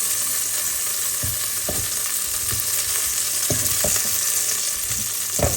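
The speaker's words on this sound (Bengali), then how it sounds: "আলুগুলো আলাদা করে ভেজে নিই, কারণ ফুলকপির সাথে দিয়ে ভাজতে ভুলে গেছি" Potato pieces fry in hot oil in a home kitchen, a constant loud sizzle with occasional scraping stirs of a utensil against the pan, no voices.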